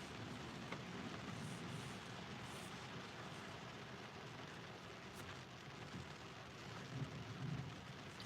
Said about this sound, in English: we're getting thunder and lightning right now